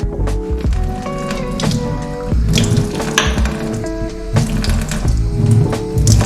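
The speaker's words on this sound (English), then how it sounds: "After you add in the water" Water poured into a plant-based chocolate chip waffle batter made with egg replacer, a steady close splashing and gurgling that runs throughout under musical tones, with no talking.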